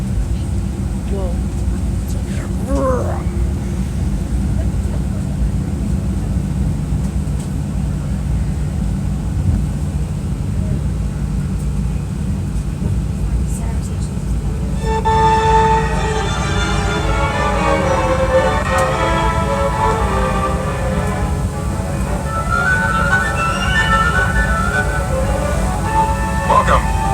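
Steady loud airplane engine drone inside the cabin during flight, a constant low roar running throughout while people talk over it.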